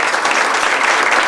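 A conference crowd gives a warm welcoming ovation to a speaker. The dense, loud, continuous clapping fills the whole brief moment as an even roar of hands, with no voices standing out.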